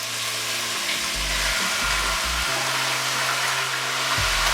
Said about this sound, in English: I'm going to fry this off in hot oil until it's golden brown.